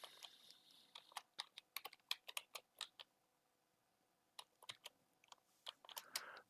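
A computer keyboard being typed on as a password is entered to log into a remote server, two quick bursts of close, crisp key clicks separated by a short pause, with no talking.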